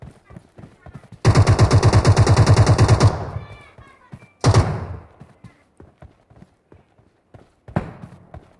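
Loud machine-gun burst in the video game MetroRoyale, a rapid rattling volley of about two seconds followed by a short second burst, a later weaker one, and quiet clicks and footsteps between.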